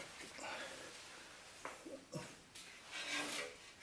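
A wrench tightens a lock nut on a Mercedes C300 tie rod end, producing faint close rasping and scraping ratchet strokes in short uneven bursts.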